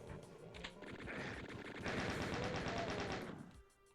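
A Doom II chaingunner fires its chaingun in a fairly faint, continuous rattle of rapid shots that swells and then cuts off near the end.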